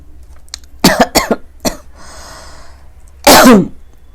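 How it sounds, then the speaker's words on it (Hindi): A few sharp coughs close to the microphone, followed after a pause by one louder, harsher cough. "तो मुझे खांसी आ गई"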